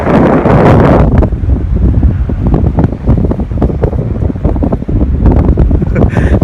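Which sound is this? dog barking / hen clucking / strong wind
strong wind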